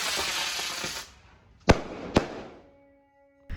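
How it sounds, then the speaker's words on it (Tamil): At a hill temple, a rocket-type firecracker lit by the priest fizzes with a rushing hiss for about a second, then two sharp loud bangs follow close together, and a third pop comes after a short quiet gap. "பூசாரி போய் ஸ்டோர் ரூம்லேருந்து பட்டாசு எடுத்து வந்தார், அந்த ராக்கெட் மாதிரி இருக்கிறத"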